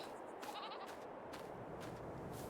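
Goats bleat on a farm in the Farming Simulator video game, a few wavering calls rising over a steady bed of ambient farm noise at moderate distance.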